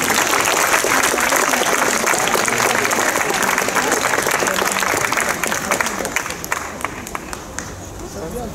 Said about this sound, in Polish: Oczywiście, brawa.